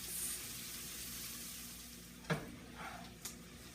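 Jambalaya ingredients spiced with cayenne are stirred in a sizzling pan: a soft, steady frying hiss with a couple of sharper spoon scrapes near the end, quiet and close, with no talking.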